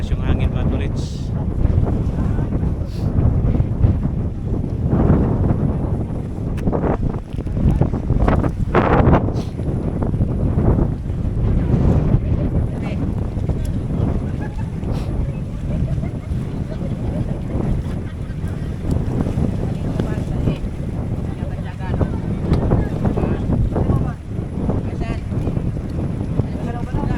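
Strong wind buffets the microphone in a steady roar with gusty low rumbles, with people talking in Filipino at times and a faint sense of open water, in Bulalacao, Oriental Mindoro, Philippines.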